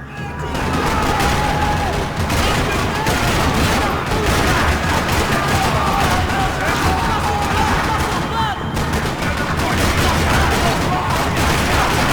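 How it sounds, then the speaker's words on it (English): Dense, continuous gunfire rattles throughout a parking lot shootout in Max Payne 3, with overlapping bursts and a steady roar of combat noise at high intensity. "Another parking lot rattling with gunfire."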